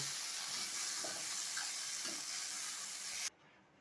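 Prawns frying in oil in a wok, a steady close sizzle with faint stirring that cuts off abruptly near the end.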